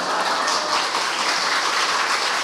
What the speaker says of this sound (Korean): 우리 유시민 작가님께 계속해서 박수 한번 부탁드리겠습니다